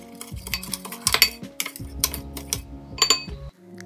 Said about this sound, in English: I'm going to mix everything together and put that aside